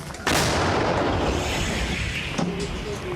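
A heavy artillery gun fires in a military combat setting with a sharp, thunderous blast that rolls out into a long, loud rumbling echo, followed by a fainter second report.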